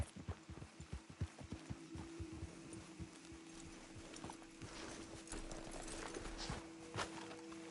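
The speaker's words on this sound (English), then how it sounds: "Let's leave the horses off the road to the right here." Horses' hooves clip-clop in Red Dead Redemption 2, a quick run of sharp, close hoofbeats at first that soften into a steadier mixed rumble over a faint hum, with no talking.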